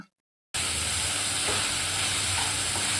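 Prawns frying in hot oil in a home kitchen, a loud continuous sizzle that starts abruptly after a short silence and holds steady, with faint stirring clicks and no talking.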